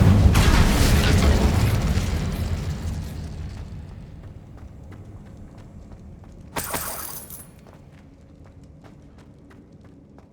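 Incendio fire spell cast in Hogwarts Legacy on PS5, a loud whooshing flame burst that fades into quiet, followed by a short sharp flare and faint ticking.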